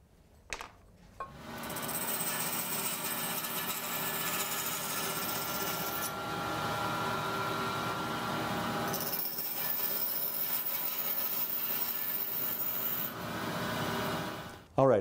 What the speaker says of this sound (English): So I'm just going to go to the bandsaw and cut these off.